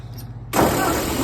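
A 1950 Ford 8N tractor engine catches abruptly after a brief quiet moment, jumping into a loud, close, rough running roar that holds steady to the end.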